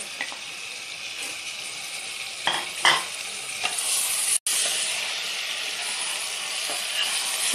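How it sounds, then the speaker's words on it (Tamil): Chicken pieces fry in hot oil with sautéed masala for a coconut-free chicken gravy, a steady close sizzle broken by a few clanks and scrapes of stirring, with no voices. "சிக்கனை நம்ம நல்லா இதில் வதக்கிடுவோம்."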